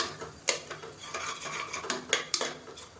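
Chicken leg-piece gravy being stirred in a pan for a Sunday biryani meal, a spoon scraping and clinking against the metal in quick irregular strokes, close and moderately loud with no talk.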